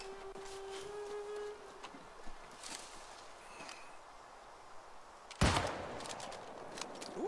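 Gunfire in the video game New World: a quiet, steady buzzing bed with a few faint pops, then one sharp loud crack partway through followed by a lingering rumble.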